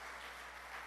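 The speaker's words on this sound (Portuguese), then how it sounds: "Dê uma salva de palmas para o nosso Deus" A church congregation at a live Sunday service applauds, a steady wash of clapping with no speech.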